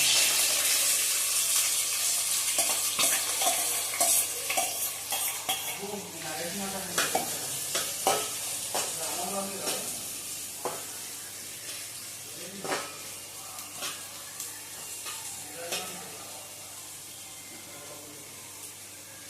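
Onions fried in oil with cumin in a kadai sizzle steadily while being stirred, with irregular scraping and clattering stir strokes over the hiss, fading slightly toward the end.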